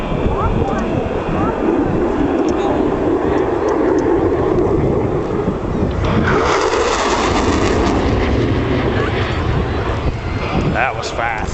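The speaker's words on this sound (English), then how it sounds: "Watch now as Major Corrigan rock and rolls the F-16 at speeds approaching Mach 1." F-16 fighter jet making a high-speed pass near Mach 1 at an air show, a loud continuous roar of jet noise swelling midway, heard outdoors with heavy wind buffeting and crowd presence.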